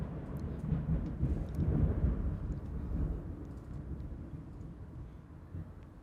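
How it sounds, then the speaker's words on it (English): Distant thunder rolling over an outdoor disc golf tournament course in Austin, a low, sustained rumble that swells in the middle and slowly fades, heard alone without talking. "Can y'all hear that thunder?"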